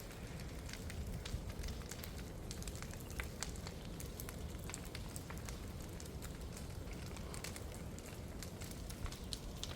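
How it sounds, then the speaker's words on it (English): A big bonfire burns on a farm under darkening skies, its steady roar broken by frequent sharp crackles and pops, fairly faint, with no talking. "But that fire is pretty hot right now."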